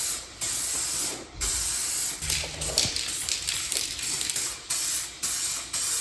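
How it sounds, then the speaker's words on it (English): Color-match automotive paint sprayed from an aerosol can onto a car, a series of loud, close hissing bursts separated by short pauses, each lasting around a second. "After I spray this coat and the paint dries"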